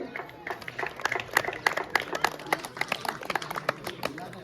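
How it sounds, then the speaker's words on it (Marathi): Applause for a player at a village cricket final prize ceremony, a crowd clapping in a dense, uneven patter that swells and holds at moderate loudness outdoors. "जोरदार टाळ्या वाजवा साईरासाठी"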